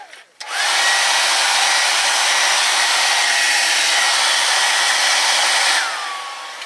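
A loud, steady heat gun whirs up, runs continuously at a constant pitch for several seconds while setting paint on a fishing lure, then winds down at the end.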